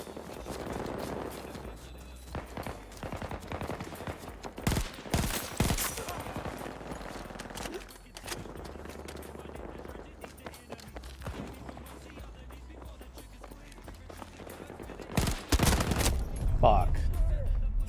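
An AK rifle fires in Battlefield 2042 on PC in bursts of rapid shots with other gunfire and footsteps. The shooting comes loud and close in scattered volleys, and a player talks throughout.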